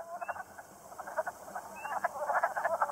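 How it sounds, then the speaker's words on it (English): A chorus of wood frogs giving short, clucking, duck-like croaks in quick overlapping bursts, steady and fairly close, with no voices. "I heard the first wood frog mating calls, which I likened to the sound of arguing gnomes."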